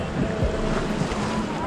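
A small ferry boat crosses the Rhine river in Basel, with a steady wash of water, churning waves and gusty wind buffeting the microphone throughout, fairly loud and continuous.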